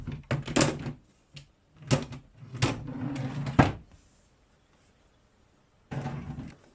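IKEA MALM drawer parts knock and thunk as they are fitted together, several separate wooden bumps and slides close by, with quiet pauses between them and a final knock after a gap.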